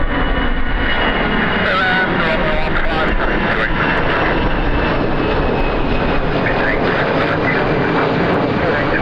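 Vueling Airbus A320 jet departing Birmingham Airport, a steady loud engine roar filling the whole clip, with faint radio-style voices underneath.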